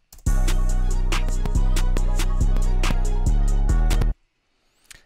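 Loud hip-hop beat built from a drum kit with punchy kicks, snappy snares and hi-hats layered over a sustained melodic sample, in a full, energetic groove that runs about four seconds and then stops.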